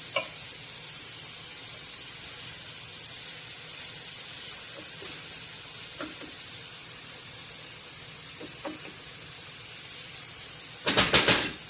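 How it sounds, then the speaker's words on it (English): Onions fry in avocado oil in a pan with a steady, even hiss, and a few faint clicks and a brief louder rustle come near the end. "So I'm gonna cook these onions until they get like translucent, turn like brownish"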